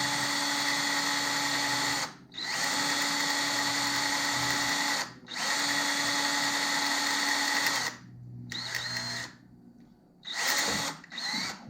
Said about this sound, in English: we'll go ahead and drill this hole here for the inside radius